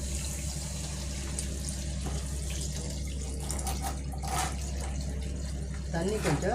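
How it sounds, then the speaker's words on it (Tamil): Water pours into a cooking pot with a steady rushing splash over a constant low hum, and a voice rises briefly near the end. "இப்போ தண்ணி ஊற்றிக்கலாம்."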